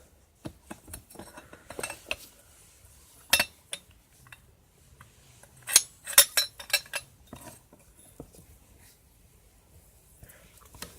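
Mole grips turn the nut on a 22mm copper compression fitting, producing sporadic close metallic clicks, clinks and taps in uneven clusters against a quiet background.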